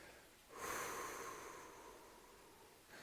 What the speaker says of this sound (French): Je respire.